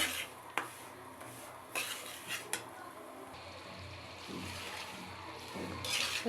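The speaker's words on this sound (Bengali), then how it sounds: "লাড়া চাড়া দিয়ে সুন্দর করে ভাজা নিতে হবে।" Semolina fries in oil in a pan for halwa while a spoon stirs it. Close scraping and clinking strokes on the pan come at irregular intervals over a low sizzling wash.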